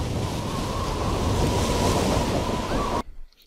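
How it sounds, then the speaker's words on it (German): Loud, steady rushing wind in the video game Tomb Raider 6 roars for about three seconds, then cuts off sharply, leaving near silence. "Das war jetzt der Wind."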